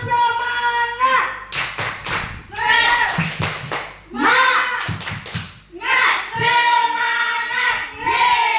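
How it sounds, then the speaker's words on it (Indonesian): A group performs a rhythmic 'tepuk semangat' spirit clap in an Indonesian teacher gathering, loud patterned claps in bursts mixed with chanted voices and a leading speaker. "Tepuk semangat."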